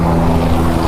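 A helicopter giving rides near a pilgrimage route toward Kedarnath throbs with a loud, steady low rotor drone over one brief second, close and continuous, with no voices.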